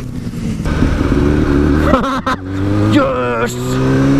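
Engine of a car in a parking lot race, revving loudly and steadily with rising and falling pitch, some gear shifts audible, with people talking over it.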